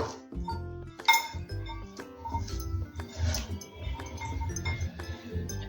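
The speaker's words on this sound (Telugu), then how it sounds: "ఇప్పుడు ఇవన్నీ ఇలా మిక్స్ చేసేసుకుందాం అంటే ఈ ఉప్పు కారం మసాలా అంతా కూడా ఈ క్యాప్సికమ్ ఆనియన్కి బాగా పట్టేస్తుంది" A spoon clinks repeatedly against a bowl while capsicum and onion are mixed with salt, chili and masala, light irregular metallic taps close by.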